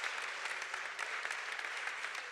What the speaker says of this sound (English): Donia and Sonia, please, could you applause them very, very strong?